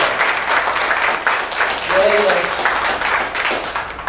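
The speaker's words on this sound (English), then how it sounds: "can you give a nice round of applause for Mr. Marco Walder?" Applause from a live audience at a speaker event introducing a guest, a steady broad wash of clapping lasting throughout, with faint voices mixed underneath.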